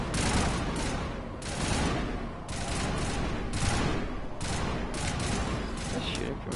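Sustained rapid gunfire in a Mass Effect 1 Legendary Edition firefight, a loud, dense fusillade of overlapping weapon shots that barely lets up, with brief dips between volleys.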